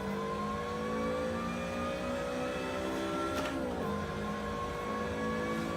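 Simulated race car engine lapping the Mosport circuit in Assetto Corsa, a steady loud mid-pitched drone with rising pitch as it accelerates, then a sharp dip and gear change around the middle before climbing again.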